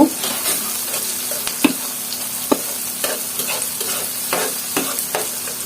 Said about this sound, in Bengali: লবণটা দিয়ে পেঁয়াজ রসুন ভালোভাবে ভেজে নেব